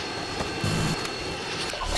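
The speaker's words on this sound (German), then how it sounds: "Verbündeter Helikopter kommt." A friendly helicopter arrives in the video game Call of Duty MW2, on the Sub Base multiplayer map. The rotor and engine roar form a steady, fairly loud wash that swells slightly toward the end, with no voices.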